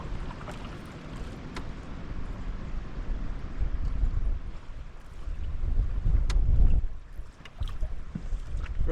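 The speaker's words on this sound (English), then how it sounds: "Friggin' wind blowing you one way," Wind blows steadily on a back-country canoe trip, a continuous rumbling gust buffeting the microphone that swells and fades, with faint water and paddle sounds beneath.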